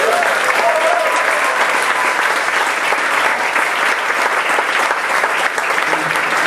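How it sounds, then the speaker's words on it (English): An audience applauds the cast at a musical theatre show, dense and steady clapping from a full crowd that holds at a strong, even level throughout. "just another round of applause for the cast."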